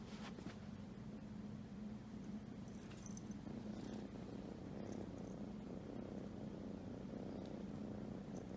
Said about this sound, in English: So I got this cat 2 days ago.